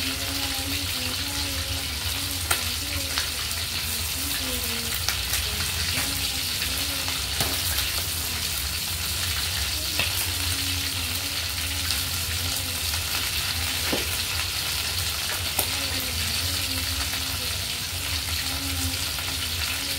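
Chicken wings frying in a pan give a steady dense sizzle and crackle throughout, with occasional stirring clatter, moderately loud and without speech.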